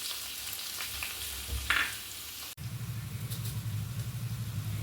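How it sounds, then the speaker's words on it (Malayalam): Onion, green chili, curry leaves and garlic frying in hot coconut oil, a sudden loud sizzle as they hit the pan, followed by a steady, close crackling fry. "വെളിച്ചെണ്ണ ചൂടായിട്ടുണ്ട്. അതിലേക്ക് നമുക്ക് സവാള, പച്ചമുളക്, വേപ്പില,"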